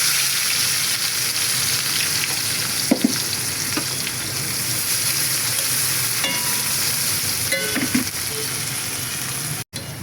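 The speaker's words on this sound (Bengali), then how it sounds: "এই তেলের মধ্যে দিয়ে দিচ্ছি পেঁয়াজ।" Onions frying in hot oil, a loud continuous sizzle with occasional stirring clicks and scrapes, close and steady throughout.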